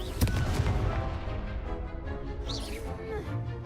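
Spell effects in a Harry Potter video game sound as booming blasts and crackling bursts over a steady musical score, with a sharp impact near the start.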